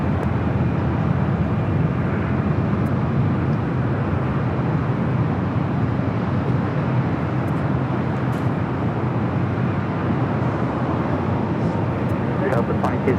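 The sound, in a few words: Air France heavy jet taking off, runway 24 left, LAX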